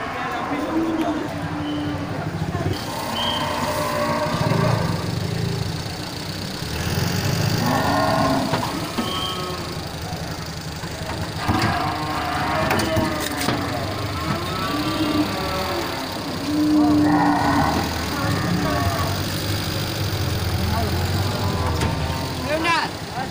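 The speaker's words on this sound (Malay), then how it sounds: "proses pembongkaran nih kan sapi merek simental ini dari jenis jantan dan betina ya" Large Simmental cattle, bulls and cows, moo repeatedly while being unloaded from a truck, with loud drawn-out calls rising every few seconds over an idling engine and nearby people talking.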